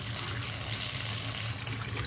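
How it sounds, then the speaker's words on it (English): Hot water runs from a bathroom faucet with the aerator removed, filling a lavatory sink in a steady, close hiss and splash that continues without a break. "We use hot water."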